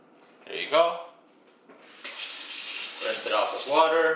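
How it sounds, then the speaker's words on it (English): Tap water runs into a sink to rinse a small electric frother, a steady splashing hiss lasting a couple of seconds, with a person talking briefly before it starts and over its end. "Rinse it off with water, turn it on, it's now clean."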